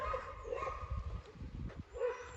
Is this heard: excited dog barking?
yes